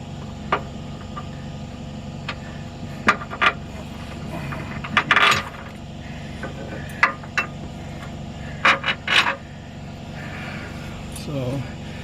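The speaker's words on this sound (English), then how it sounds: "So I'm going to grab the 3 gearbox bolts, slide them through from the outside." Faint metallic clinks and taps come from three gearbox bolts being slid through a Chevy/GMC truck's steering bracket from the outside. The scattered, sparse sounds sit over a low steady background hum in a quiet workshop.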